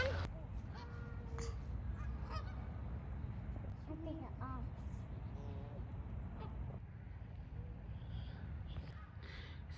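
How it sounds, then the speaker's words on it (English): Geese honking in a park at dusk, many birds calling repeatedly at middle distance over a steady background of ambient noise. "Sounds like the geese are ready to go to bed."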